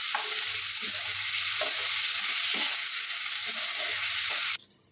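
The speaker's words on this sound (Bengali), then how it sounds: "ভালো করে নাড়িয়ে নিচ্ছে।" Food stirred in a cooking pan over steady frying hiss, with repeated scraping strokes of the spoon close up before the sound cuts off abruptly.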